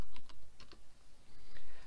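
Someone types on a computer keyboard while editing a blog post, close and quiet, producing quick bursts of light clicking keystrokes with brief pauses between them.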